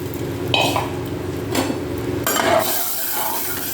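Fried kalai dal being tipped into a cooking pot and stirred, with a spoon scraping and clinking against the metal over a steady background sizzle, several short scrapes close by.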